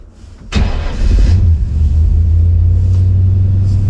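An old carbureted car engine starting from cold on a roughly 30-degree day: a short cranking burst cuts in at once, then catches and settles into a loud, steady low idle rumble, close by with no talking.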